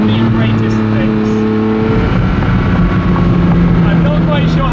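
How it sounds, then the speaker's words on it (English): A Ferrari F40 engine and exhaust roar loudly from inside the car while driving, a dense continuous drone with shifting pitch as it accelerates, and someone talks over it. "those bangs and cracks you get out of the F40"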